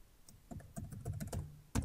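A password being typed on a computer keyboard at a Windows Server Core login, a quick series of close, crisp keystrokes ending with a firmer final key press.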